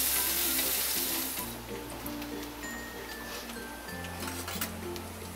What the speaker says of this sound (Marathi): आणि एक मोठा कांदा आहे बघा बारीक कापून घेतलेला. आता हे चांगलं भाजून घ्यायचं.